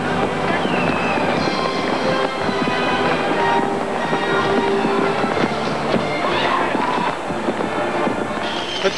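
Dense, loud outdoor din of a big New Year 1990 crowd celebrating at the Brandenburg Gate in Berlin, with crackling bangs and pops of fireworks mixed into continuous cheering and noise.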